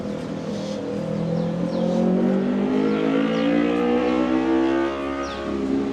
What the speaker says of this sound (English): God, there's some noisy traffic around here.